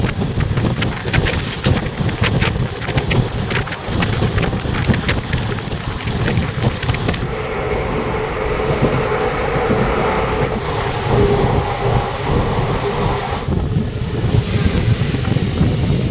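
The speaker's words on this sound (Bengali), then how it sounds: "ব্যান্ডেল জংশন থেকে সাতটা চারে ট্রেনটা ছাড়লো" The Black Diamond Express rolling onward from Bandel Junction toward Bardhaman, a loud continuous rumble and rattle of carriages on the rails that shifts in tone as the run goes on.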